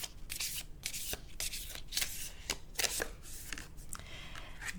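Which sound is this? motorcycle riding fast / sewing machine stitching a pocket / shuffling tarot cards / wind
shuffling tarot cards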